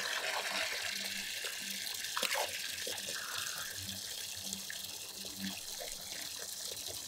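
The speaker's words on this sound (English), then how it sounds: "We're gonna take this hose and we're gonna point it directly at the base." Water from a garden hose sprays steadily against a model house built for a durability test, a continuous hiss and splatter under brief voices.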